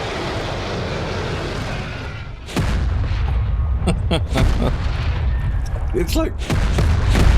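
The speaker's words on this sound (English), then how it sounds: "Homing missiles." Homing missiles exploding in the ARK video game during a boss fight: a loud roar gives way to repeated booming blasts and crackling impacts, with a player talking over the barrage.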